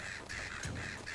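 Crows caw in the video game The Legend of Zelda: Echoes of Wisdom, a few loud, harsh calls in quick succession over a steady game background.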